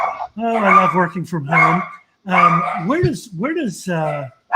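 Pet dogs at home bark and yelp in short bursts, fairly close by, while a person talks over them.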